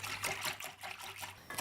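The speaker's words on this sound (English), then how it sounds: "We're just going to pour very gently the liquid over our dish." Milk and egg mixture poured gently over a spiced apple bread pudding dish, a soft continuous trickle and splash heard up close for under two seconds.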